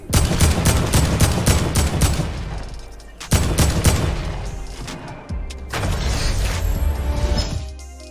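Rapid bursts of automatic gunfire from a Fortnite fight, loud and close, in dense volleys with short pauses between, the shots trailing off into echoing explosions and crashes.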